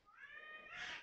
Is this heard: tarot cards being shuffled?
no